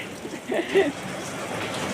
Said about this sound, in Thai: ฝนตกฝนตกนี่ ดูสิ ฝนตกทุกคน